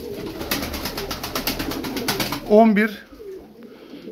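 Tumbler pigeons coo in a short burst of throaty calls near the end, close by, with someone speaking briefly over them and rhythmic clicking before.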